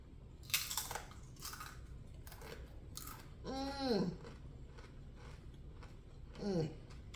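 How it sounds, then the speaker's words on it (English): Someone bites into crisp homemade sweet potato chips, giving a few close, sharp crunches early on, with brief speech later. "as it's getting cooling down, it's going to be crunchy. So we're going to test the crunchiness now."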